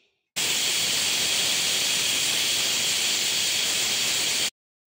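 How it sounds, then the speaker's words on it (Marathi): A pressure cooker whistle on high flame releases steam in a loud, steady hiss that runs unbroken for about four seconds, then cuts off abruptly. "हाय फ्लेमवर मी ह्या कुकरची एक शिट्टी काढून घेणार आहे"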